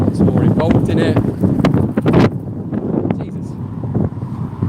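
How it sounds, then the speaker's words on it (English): Strong outdoor wind buffets the microphone with loud, rumbling gusts that swell and ease throughout, heard alongside someone talking. "My goodness, it's windy."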